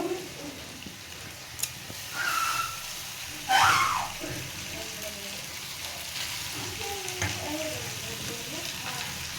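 Chow mein noodles with carrots fry in a pan, a quiet continuous sizzle with a couple of louder bursts as noodles hit the oil and occasional stirring clatter.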